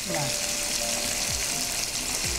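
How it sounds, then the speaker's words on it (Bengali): Whole fish frying in hot oil for Bengali mango katla, a steady loud sizzle and crackle throughout, with a few clinks of a utensil against the pan and no voices. "আমাদের মাছ ভাজা চলছে, আম কাতলার প্রিপারেশন একদম শুরু করে ফেলেছি আমরা।"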